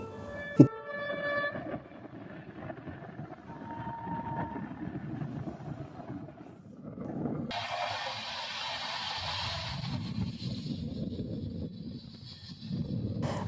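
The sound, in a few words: trains passing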